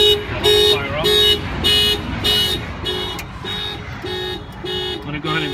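A Mitsubishi Outlander Sport's factory car alarm blares loud and close, repeating a steady pulsing honk-and-siren cycle about every half second throughout.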